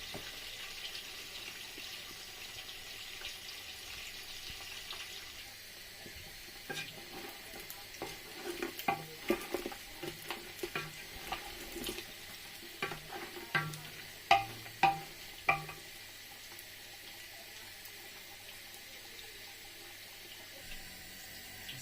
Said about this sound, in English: I'm going to pre-fry the goat meat.